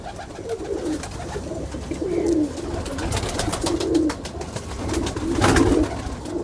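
Old teddy pigeons from a pigeon-keeping loft cooing in repeated low, throaty bursts, close by over a steady hum of background noise.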